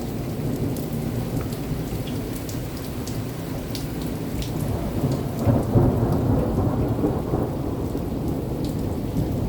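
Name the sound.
thunder and rain of a severe thunderstorm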